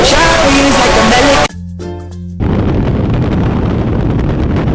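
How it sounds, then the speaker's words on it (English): Loud, roaring wind of skydiving freefall blasting across the microphone, broadband and relentless, with a brief muffled drop in the middle before the full rush returns. "The sound of the air rushing past my ears was like, I don't know, just really freaking loud"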